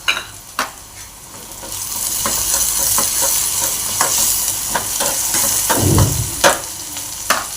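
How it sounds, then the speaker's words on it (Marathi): Chopped onion and curry leaves fry in hot oil in a pan, a loud continuous sizzle broken by sharp scrapes and clinks of stirring, with a heavier surge of hissing near the end. "कांदा भाजत आलेला आहे। आता याच्यामध्ये आपण कढीपत्ता घालूया।"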